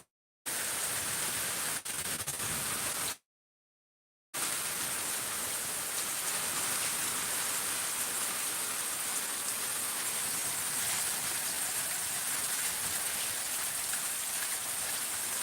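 Heavy rain pours down in a dense, loud, continuous hiss, broken only by two brief silent gaps near the start.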